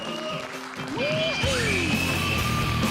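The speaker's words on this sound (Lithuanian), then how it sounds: "Plojimai salėje." Applause fills the hall at a NABBA Lithuanian Cup athletic figure bodybuilding competition. A steady wash of clapping swells in midway and continues under tonal voice or music.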